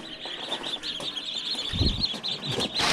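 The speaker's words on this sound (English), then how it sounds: "Let's say good morning to our little ducklings." Small ducklings in an enclosure give a steady run of high chirps and peeps, with some wing flutters and rustling and a few louder bumps near the end.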